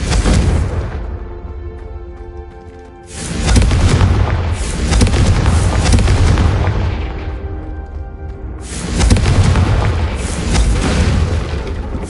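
Confringo fire-blast spell in the game Hogwarts Legacy: a loud booming explosion about 3 s in, with a rumbling roar that trails off, then a second heavy blast around 8.5 s with more rumble after it.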